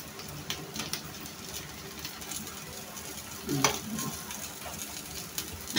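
Okra and egg sizzle steadily in a frying pan, a soft continuous hiss with occasional stirring scrapes and a louder clatter near the middle, no voices.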